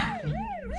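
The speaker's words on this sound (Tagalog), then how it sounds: "Nakabati ako sang tunog sa ilang sirena." Police patrol car siren wailing in a steady rising and falling sweep, fairly close and loud, with no talk over it.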